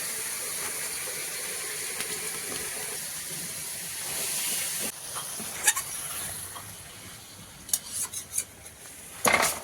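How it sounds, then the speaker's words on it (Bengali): Goat meat is stir-fried in a pot with a little water, giving a steady sizzling hiss followed by scattered scraping and clinking of a spoon against the pot, close and moderately quiet. "খাসির মাংসটা তো কষাচ্ছি আর সামান্য একটু জলও দিয়ে দিয়েছি"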